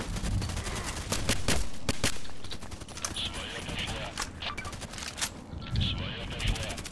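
SVU-AS rifle fire in the shooter game Contract Wars: a rapid, continuous string of sharp gunshots, fairly loud and steady throughout, with busy game noise underneath.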